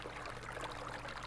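Water pours steadily from a watering can in the video game Weed Farmer Simulator, a faint, even trickling stream with no break.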